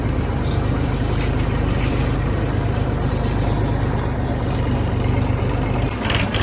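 A motorbike is being ridden. A loud, steady engine drone is close by throughout, mixed with rushing wind noise, and cuts off abruptly at the end.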